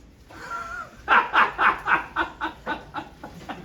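A Chihuahua barks about nine times in a quick, even series, loud and close, after a brief quiet moment.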